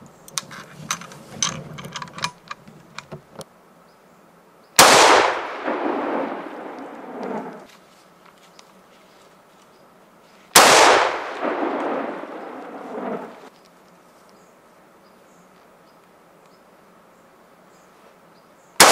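A .308 Win rifle firing homemade hunting ammunition: two loud, sharp reports spaced several seconds apart, each with a long rolling echo tail, after a stretch of faint clicking handling noise.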